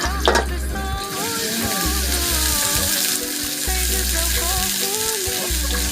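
Pork stir-frying for Thai pad kra pao (holy basil stir-fry) sizzles loudly and steadily in a hot pan, with scraping and stirring strokes breaking through the frying noise and no voices.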